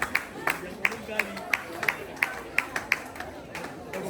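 Rhythmic clapping from a crowd at a high school graduation celebration, steady sharp claps repeating about every third of a second, with chatter and voices underneath.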